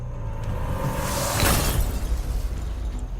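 Shattering smash of an hourglass on the Survivor TV show, a single bright burst peaking mid-clip over a low rumbling background, then fading into a softer noisy tail.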